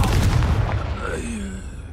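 An Incendio fire spell cast during combat in Hogwarts Legacy: a sharp, booming burst that fades over about a second, loud and close.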